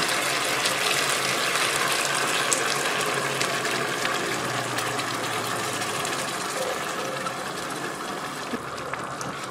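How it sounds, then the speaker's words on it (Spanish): Water pours into a pan of chicken stew (pollo guisado) as a continuous close gushing splash that holds steady for several seconds with no talk. "Le voy a agregar otro poquito de agua porque este pollo tiene que cocinarse"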